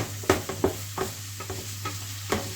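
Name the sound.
stirring and sautéing carrots and onion in a pan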